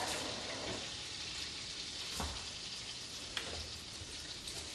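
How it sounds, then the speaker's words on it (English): Minced onion sauteing in melted butter gives a steady, soft sizzle and crackle close by, with a couple of brief pops and no talking. "I've got the butter melting and we're gonna go ahead and add our 2 tablespoons of minced onion to that."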